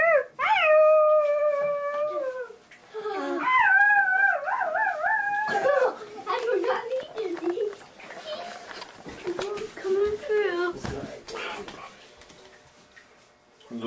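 A dog howls in long, wavering tones, breaking into yips and whimpers, close by, with people talking around it.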